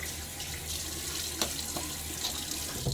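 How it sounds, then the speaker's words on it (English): Water running from a bathroom sink tap is splashed onto a face during a wet shave, a steady soft rush with a few faint splashes and drips. "Splash on my face."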